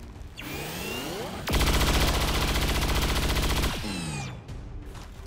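A sustained burst of rapid automatic gunfire in XCOM 2: Long War 2, loud and rhythmic for about two seconds, bracketed by whooshing camera sweeps and no talking.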